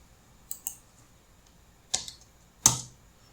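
Several sharp, separate clicks of keys on a computer keyboard, with a louder final press of the Enter key, close and quiet in a still room.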